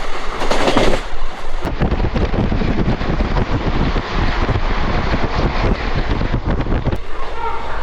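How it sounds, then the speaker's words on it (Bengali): A train leaving Bardhaman station rumbles steadily along the rails with a dense, roaring clatter and wind buffeting the microphone, continuous throughout. "বর্ধমান স্টেশনে দুই নম্বর প্ল্যাটফর্মে ঢুকেছিল আমাদের ট্রেন আর স্টেশন থেকে ছাড়লো"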